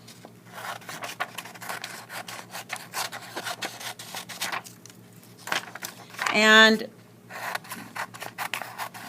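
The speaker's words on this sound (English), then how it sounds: "cut out our spelling words with our handy dandy scissors" Scissors snip through paper in a string of short, close cuts, with a brief spoken word partway through.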